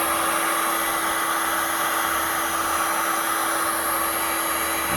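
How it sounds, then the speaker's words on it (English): A heat gun warms the hood panel of a Mercedes to loosen a dent, producing a loud, constant airy blowing whine with no voices. "I'm going to apply some heat and make the metal soft"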